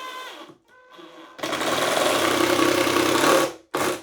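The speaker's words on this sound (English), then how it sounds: "I use a 3/4 inch Forstner bit to do that" A drill press or power drill turning a 3/4 inch Forstner bit notches wood for T-nuts on a table saw lift panel. Brief motor bursts lead into a sustained, loud whirring cut of about two seconds, then another short start.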